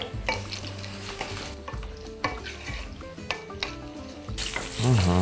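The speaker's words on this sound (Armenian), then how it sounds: "Թող մի փոքր էլ տապակվի սմբուկը" Eggplant sizzles in a hot pan, with occasional stirring clatter and scraping; no one speaks.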